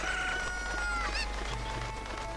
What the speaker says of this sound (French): Cette poule qui veut pas.